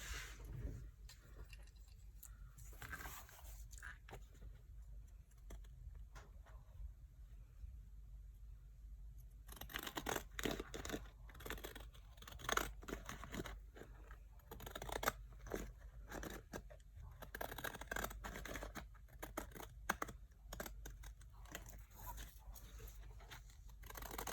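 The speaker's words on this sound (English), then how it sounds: "It's my pinking scissors." Scissors snip through fabric in a run of crisp, close cuts, sparse at first and then quicker and denser, with no talking.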